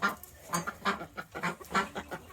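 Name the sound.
chickens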